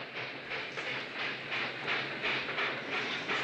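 A train running at full throttle, its steady rumble and hiss carrying a rhythmic clickety-clack of wheels on rail joints, loud and continuous with no talk.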